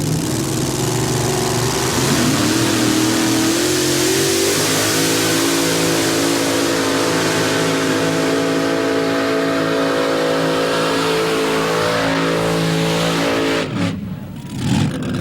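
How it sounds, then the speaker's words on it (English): Three-engine Arias-powered modified pulling tractor, the Dirt Slinger, making a full pull at Bowling Green: a loud, roaring multi-engine howl that climbs and holds for about thirteen seconds, then drops away abruptly near the end. "The top 3-engine tractor in the country just made a great run."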